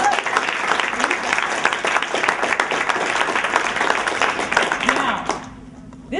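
A political talk audience claps in a dense, sustained burst of applause for about five seconds before it fades to quiet room tone, with a voice briefly audible.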